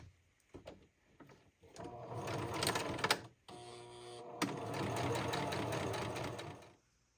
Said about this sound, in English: now I'm going to sew the facing to the shirt on the inside, the bottom of the facing